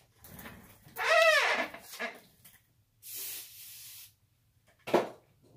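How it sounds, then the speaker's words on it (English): Lithium grease spraying from an aerosol can onto a metric-threaded part, a couple of short hissing bursts up close separated by quiet gaps. "So I'll spray some of this lithium grease out"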